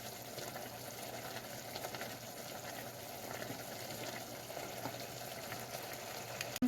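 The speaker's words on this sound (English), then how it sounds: "Add in a little bit of oil. Not too much, and let that cook. Let that cook, and you can see it's simmering." Curry simmering and bubbling in a little oil in a pot, a low steady hiss and gentle bubbling that runs continuously at a quiet level with no voices over it.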